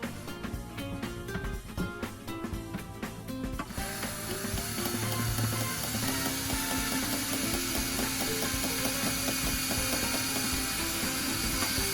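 Self-tapping screws driven in with a power driver, rapid clicking ratchet-like bursts followed by a steady, sustained whirring drive, close and moderately loud, with no talking.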